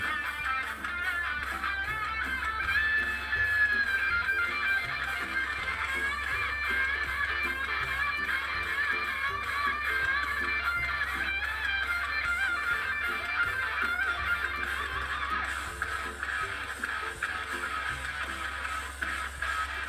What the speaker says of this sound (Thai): เพราะตรงนี้จะเน้นเสียงกีตาร์โซโล่เสียงแตกนะครับ แล้วก็เสียงเบสเสียงกองมันๆนะครับ